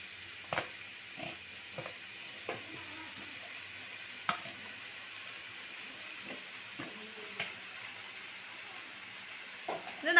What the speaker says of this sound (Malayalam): നമുക്ക് നല്ല ബ്രൗൺ നിറമാകുന്നത് വരെ വഴറ്റിയെടുക്കാം